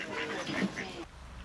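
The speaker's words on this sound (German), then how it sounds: "Guck mal, es gibt Enten." Ducks quacking close by in a short burst of several overlapping calls, loud at first and then dropping away to quiet outdoor ambience.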